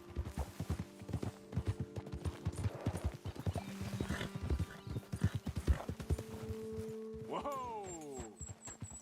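In the video game Red Dead Redemption 2, horses' hooves clip-clop in a quick, busy, uneven rhythm close by, loud and continuous before easing off near the end.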